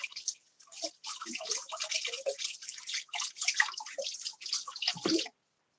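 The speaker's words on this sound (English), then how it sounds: "I got water in my sink. I'm going to let it hot, fresh water." Hot tap water running into a kitchen sink while cooking homemade pierogies, a splashy, uneven stream that stops abruptly near the end, close and fairly quiet with no speech.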